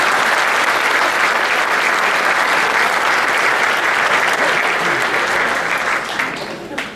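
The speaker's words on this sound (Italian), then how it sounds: "Un applauso per..." A crowd in a small Italian village applauds steadily and loudly, a dense wash of clapping that holds throughout and tapers slightly at the end.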